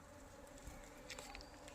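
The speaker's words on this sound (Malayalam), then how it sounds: "തേനീച്ചയുടെ ഒരു മൂളലാണ് ഇങ്ങോട്ട് വരുമ്പോഴത്തേക്കിനും" Honeybees humming around moss rose plants, a soft continuous buzzing close by with a few louder passes, no voices.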